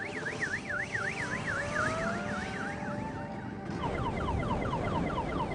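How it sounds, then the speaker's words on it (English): Electric race motorcycle fitted with a car alarm as its required warning noise, a rapid warbling electronic siren wailing continuously with a brief change in pattern partway through, over steady background noise. "during testing, it was a car alarm"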